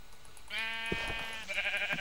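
Minecraft sheep bleat twice in quick succession, clear and close, a wavering nasal call followed by a shorter second bleat, with no talk over them.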